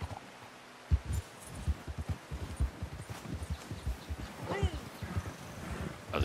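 A horse in Red Dead Redemption 2 Online trots with rhythmic hoof clip-clops on the ground, a snort or whinny partway through, while someone talks over the gameplay.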